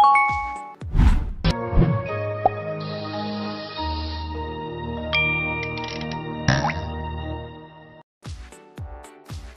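A chiming notification bell rings out with bright sustained tones, accompanied by a few thumps and swishes, and a second burst of chimes near the end.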